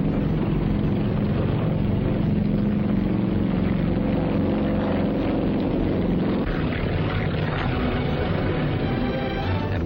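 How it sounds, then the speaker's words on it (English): Wartime transport planes take off at dusk from a jungle airbase, each towing twin gliders. A loud, steady engine drone and propeller roar fills the whole stretch without pause, with no talking. "At dusk, the first planes took off, each transport towing twin gliders."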